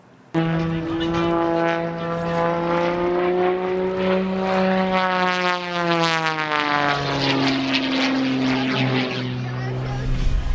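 A propeller airplane performing at the Plymouth Airport air show, its loud droning engine rising and falling in pitch as it passes close by, sustained for about ten seconds.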